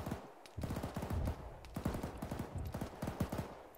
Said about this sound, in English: stormtroopers firing back and forth